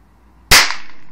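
A party popper goes off outdoors with a single sharp, loud bang like a gunshot, followed by a brief fading crackle and hiss, with no talk over it.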